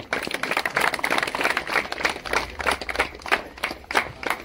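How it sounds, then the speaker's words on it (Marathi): A crowd at a Swami Samarth temple event claps steadily and continuously, a dense patter of many hands ringing out nearby with no voices over it. "आपण आता टाळ्या वाजवत करायचं"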